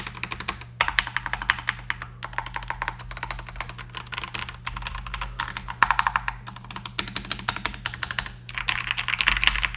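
Steady typing on a mechanical keyboard fitted with a Nimbleback Kilmat silencing mat, a continuous run of muffled, close key clacks at an even rhythm with brief pauses, no talking.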